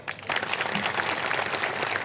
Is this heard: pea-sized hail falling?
no